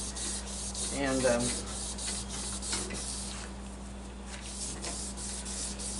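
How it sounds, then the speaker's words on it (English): Hand-rubbing toothpaste, a very fine abrasive, onto a car headlight lens to polish it, giving a soft, steady scrubbing swish that repeats in short strokes, near and fairly quiet against a low background hum. "we'll clean it the rest of the way with maybe some toothpaste"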